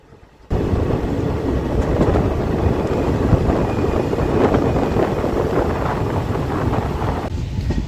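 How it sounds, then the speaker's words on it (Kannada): A train rolling into Gangavati railway station on an inaugural special run from Sindhanur to Yeshwanthpur, heard from on board as a steady loud rumble of wheels and wind buffeting the microphone after a brief quiet start. "ಗಂಗಾವತಿ ರೈಲ್ವೆ ಸ್ಟೇಷನ್ನ ಎಂಟ್ರಿ ಮಾಡ್ತಾ ಇದೆ ಟ್ರೈನ್"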